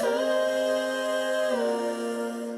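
A layered vocal pad with compression, EQ and reverb: sustained harmonised voices holding a chord, shifting pitch once partway, then fading.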